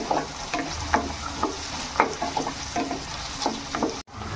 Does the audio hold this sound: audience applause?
no